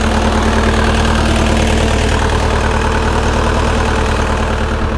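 A Bobcat T595 skid steer's diesel engine idles while warming up, a loud, close, continuous rumble with a steady knock and a slight uneven skip, heard alone.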